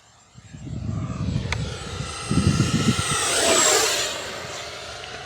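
Arrows Marlin 64mm EDF RC jet sweeping past on a touch and go, a rising and falling ducted-fan whine that swells to a peak mid-pass, with rumbling wind noise underneath and no talk.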